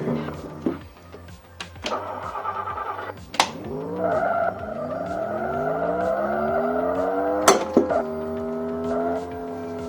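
Porsche Spider roadster in the Race Drivin' arcade game on an autocross course: a synthesized engine note climbs and falls through gear changes, with skids and clunky effects, loud and continuous for most of the stretch.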